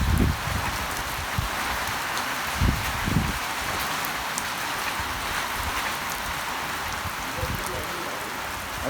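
Heavy rain pours steadily outside a mosque during Friday prayers, a dense continuous hiss of drops drumming on surfaces, with a few louder low thumps and splashes breaking through the constant wash.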